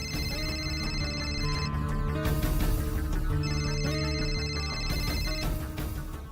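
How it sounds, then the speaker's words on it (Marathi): A telephone rings indoors in two long electronic bursts with a short gap between them, a bright repeating tone layered over a soft background bed. "चित्रवहिनी मला का फोन करतो?"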